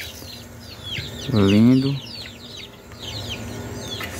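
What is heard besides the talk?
chickens clucking on a small farm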